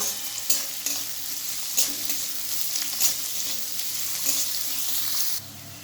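Chopped onions frying in a pan until lightly browned, a bright continuous sizzle punctuated by a few spaced spatula stirs, close and clear, the sizzle dropping slightly at the end, no one talking.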